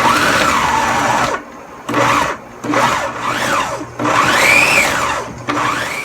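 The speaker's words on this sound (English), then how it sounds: "So now I'm going to process it in the food processor." A food processor whirs through quartered tomatoes in several loud, close bursts with brief pauses between, the motor pitch rising and falling as it spins up and slows.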